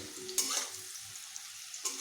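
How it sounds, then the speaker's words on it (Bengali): Potatoes fry in oil in a covered pan with a soft, steady sizzle, broken by a few sharper clinks of stirring or of the lid near the start and end. "আলুগুলোকে আমি একটু ঢেকে দিয়েই ভেজে নিচ্ছি"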